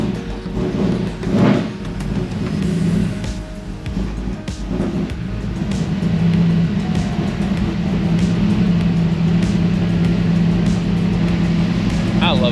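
A Chevy C10 engine fitted with a rejetted Holley 4150 carburetor rumbles steadily and loudly, a continuous low drone that builds slightly and holds throughout.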